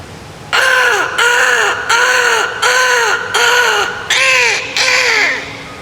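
A human voice imitates a crow, giving six loud, evenly spaced caws in a steady rhythm.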